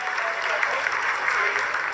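Dense applause fills mission control during the Chandrayaan-3 lunar landing, continuous and fairly loud for a brief stretch, with no clear speech over it.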